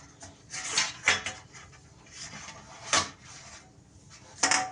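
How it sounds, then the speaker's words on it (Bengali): Ghee being smeared across a perforated metal plate for malai chop pitha, heard as soft, irregular scraping and rubbing with a few sharper metallic clinks, close and fairly quiet with no talking. "সুন্দর করে পুরো থালাটায় আমি ঘিটা মাখিয়ে নিই।"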